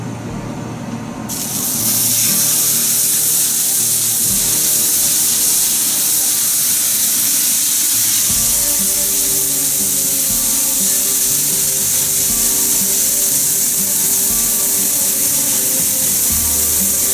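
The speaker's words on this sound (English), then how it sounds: "We'll put it on the griddle and we'll cook it." Snoek fish glazed with apricot jam sizzling on a very hot griddle for a South African snoek braai, a loud, dense hiss that swells within the first seconds and holds steady throughout.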